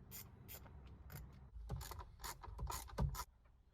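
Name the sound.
Torx bit undoing steering column screws on Mitsubishi Pajero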